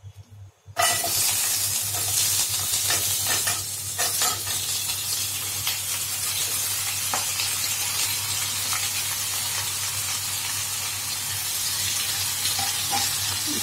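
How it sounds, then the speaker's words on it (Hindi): Chopped jackfruit dropped into hot oil in a pan: after a quiet start, a loud sizzle bursts up and then settles into a steady, close frying hiss with light stirring scrapes. "ये देखिए तेल हमारा गर्म हो चुका, तो इसमें हम कटहल को डाल देंगे।"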